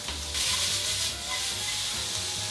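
Julienned carrots frying in a hot pan with a tablespoon of oil for a stir fry, a steady soft sizzle with faint stirring scrapes, fairly quiet and even throughout.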